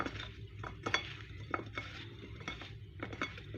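Salt and seasoning are stirred into meat for chicken fillet rolls, a spoon scraping and clinking against a bowl in quick repeated strokes, close and fairly quiet, with no talking.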